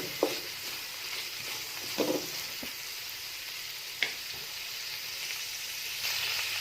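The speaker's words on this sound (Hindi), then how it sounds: "अब मैं इसके अंदर ऐड कर रही हूँ एक छोटा सा टुकड़ा अदरक का, और इसको हम अच्छे से इस तरह से भूनेंगे।" A small piece of ginger fries in a pan for garlic chutney, giving a steady close sizzle broken by a few sharp clicks of utensil contact.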